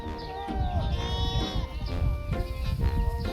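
Goats bleat repeatedly over a busy outdoor background, several wavering cries overlapping at close to moderate distance.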